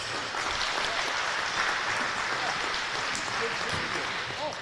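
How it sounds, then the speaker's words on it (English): Applause for senior basketball player Brady Davis at a boys high school game, steady crowd clapping filling a gym for several seconds with faint crowd voices beneath it. "a round of applause to number 4, Brady Davis."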